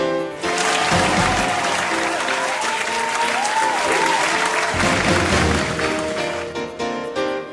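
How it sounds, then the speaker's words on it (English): Sustained audience applause at an award ceremony for Certificates of Appreciation during a Pasiklaban 2025 event, loud and steady clapping for about seven seconds, then thinning out near the end. "A big round of applause, please."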